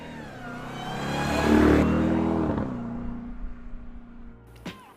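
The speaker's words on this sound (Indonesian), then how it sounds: "mesin Hemi ini punya suara melengking yang sangat khas" A supercharged 6.2-liter Hemi V8 Hellcat engine revs hard with a rising, whining roar, then eases back to a steady growl. A brief sharp burst near the end adds to the sound, and no voices are heard.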